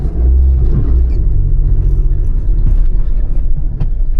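A manual car pulls away from a standstill on a steep hill, its engine giving a loud, low, close rumble that holds steady with slight rises in effort, accompanied by faint clatter and no voices.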